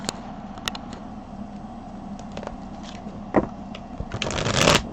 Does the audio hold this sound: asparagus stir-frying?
no